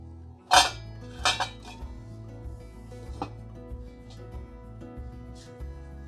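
A metal lid clanks down onto a pot of boiling pearl couscous with a sharp clatter and a second rattling clink, then faint kitchen clinks over a low steady hum.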